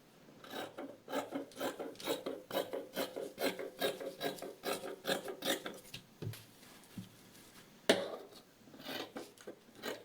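Scissors cutting through pinned pattern paper on fabric, for a pair of elastic-waistband shorts, make a rapid run of rhythmic crisp snips up close, then a pause and a few more cuts.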